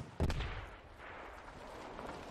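A single loud rocket launch or blast from a light anti-tank weapon in the tactical shooter Squad, a sharp broadband hit followed by a low rumbling decay and ambient battlefield noise.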